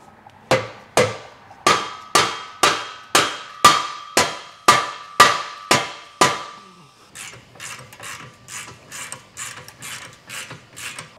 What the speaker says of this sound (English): So I'm gonna grab my dead blow, knock this in place